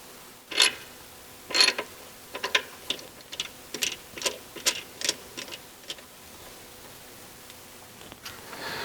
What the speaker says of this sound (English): So we've got the nut back in on the front crankshaft pulley